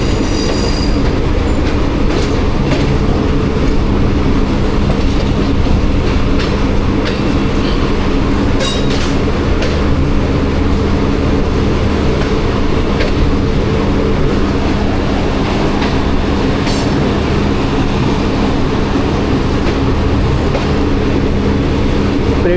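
The Jaffar Express between Attock and Rawalpindi runs on rails on a rainy day, heard from the last coach as a loud steady rumble with rhythmic wheel clatter and occasional squealing.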